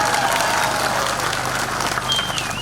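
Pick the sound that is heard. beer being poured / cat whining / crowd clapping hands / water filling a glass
crowd clapping hands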